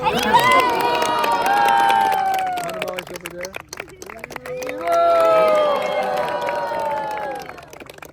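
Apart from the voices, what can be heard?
audience applause and cheering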